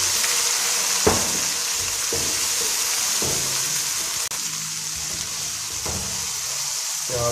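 Lightly browned onions frying in oil with ginger garlic paste for a mixed vegetable dish, a constant close sizzle with occasional clacks and scrapes of a stirring spoon.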